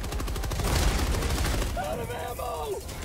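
In Helldivers 2, dense rapid gunfire rattles in loud continuous bursts, with a voice briefly heard over the shooting near the end.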